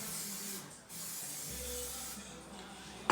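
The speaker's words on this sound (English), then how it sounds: "We are going to take our bread pans and spray them so it doesn't stick." Cooking spray hissing onto bread pans in a kitchen, a steady close soft aerosol hiss in a few short bursts, quiet and without speech.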